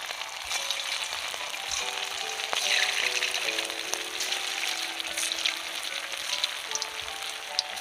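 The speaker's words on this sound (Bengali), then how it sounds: "এবার আমি এগুলো তেলে দিয়ে ভাজবো।" Chicken meat bora (dumplings) for doi bora hiss and sizzle after being dropped into hot oil, a steady close frying crackle with a faint tonal hum underneath and no voices.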